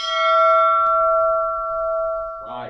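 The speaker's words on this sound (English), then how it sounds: "ring that bell." A meeting bell is struck once at a service-club gathering, its bright metallic tone ringing out and sustaining with a slow decay, followed by a brief murmur as the room begins to settle.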